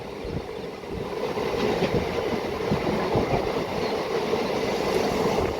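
From aboard an MMTS local train speeding through Sanathnagar station without stopping: a dense, steady roar of wheels and rails with fast rhythmic clatter, loud and continuous, with no voices.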